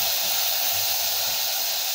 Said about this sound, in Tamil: இது நல்லா வதங்கிட்டு இருக்குதுங்க